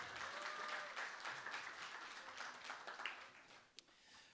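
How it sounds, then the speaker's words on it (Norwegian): At a library debate event in Norway, a sizeable crowd applauds itself with a quiet, distant wash of clapping that tapers off toward the end, one sharper clap standing out near the close. "Applaus til dere selv."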